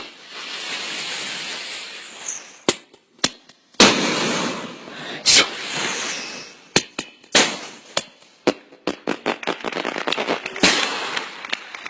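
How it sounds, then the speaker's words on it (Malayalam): Digital fireworks sound effect: hissing rocket whooshes break into sharp, loud bangs, then a rapid crackling cluster of pops toward the end, with no voices. "ഒരു ഡിജിറ്റൽ വെടിക്കെട്ട്."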